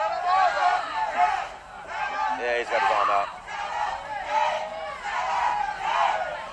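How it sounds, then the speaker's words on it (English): A mixed martial arts crowd chants and screams a fighter's name in loud surging waves, with a commentator talking over the din. "The crowd's screaming Taylor again."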